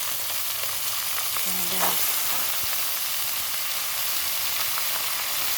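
One kilo of lumayagan hits a hot pan and sizzles steadily, a constant frying hiss with stirring scrapes throughout and a brief spoken word partway through.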